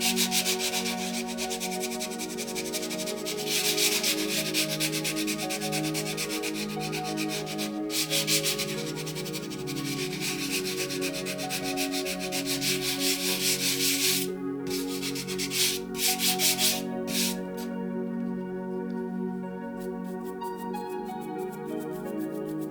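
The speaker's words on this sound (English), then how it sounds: "that was 14 seconds of sanding with 240 grit paper" Continuous rhythmic scratchy rubbing of 240 grit sandpaper against leather, steady and close, with a few brief pauses and no talking.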